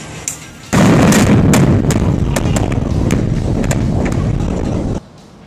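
Blasting explosion in an underground granite mine, a sudden loud roaring burst with crackling pops that rumbles for about four seconds before cutting off.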